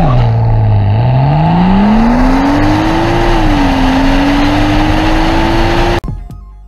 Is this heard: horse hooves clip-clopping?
no